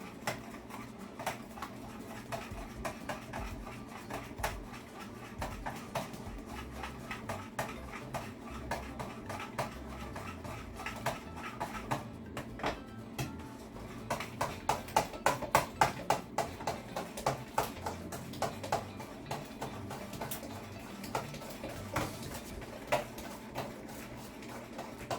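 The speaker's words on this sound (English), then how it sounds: "We'll stir that in." Eggs being stirred into strawberry cream cheese muffin batter, a long stretch of faint, irregular ticking and tapping of a utensil against a bowl, with a denser run of clicks in the middle, no talk.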